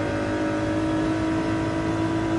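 A race car engine in Gran Turismo 7 drones at steady high revs through a slipstream, a constant loud whine with layered tonal harmonics and no break or talk.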